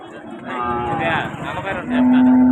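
A cow moos loudly and long, its low drawn-out call close by, with people talking over and around it at a cattle market in Punganur.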